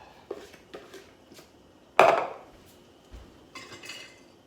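Coleslaw with apple and bacon is tossed in a bowl, giving scattered soft clinks and scrapes of utensils, with one sharper knock partway through and a few lighter taps after it.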